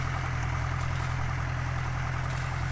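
An old tractor fitted with a 2402 engine, used for over ten years and mounted with a four-disc plough, idles in a steady, even rumble close by, continuous and unchanging with no voices.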